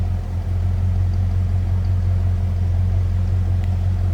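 A 1966 Ford Mustang Convertible engine idles with a steady, low throbbing rumble, close and continuous, with no talking.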